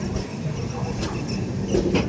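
Humsafar Express train pulling out of Ambala junction, a steady low rumble with faint rail clatter, heard from inside over a murmur of voices.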